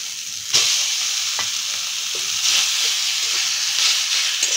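Chicken pieces sizzling in a hot pan as they are stirred together with spices, a steady bright frying hiss with occasional scraping knocks, close and continuous without any speech.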